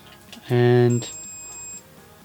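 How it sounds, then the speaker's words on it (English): A Harbor Freight multimeter's continuity buzzer, set to the 2 kilohm range, gives one thin, steady high beep lasting about a second, heard right after a short burst of close speech. "As for our continuity buzzer, you have to go into the 2 kilo ohm mode"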